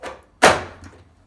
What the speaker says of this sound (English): This is just a Vidalia Chop Wizard Pro. If you haven't seen those, you can get it at Walmart. I use it for onions and veggies like this.